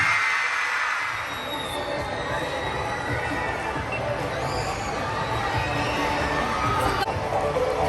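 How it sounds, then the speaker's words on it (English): Students at a school Teacher's Day celebration cheer and shout for a teacher, a sustained, loud crowd roar with children's voices mixed into the general babble. "A big hand clap."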